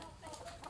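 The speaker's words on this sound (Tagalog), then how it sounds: "daming manok ni Calabas oh" Chickens clucking around a house, a few short close clucks over a soft outdoor background.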